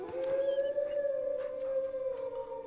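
A dog in the video game Kingdom Come Deliverance 2 lets out one long, steady, mournful howl that holds its pitch for nearly three seconds, loud and clear over faint background game sounds.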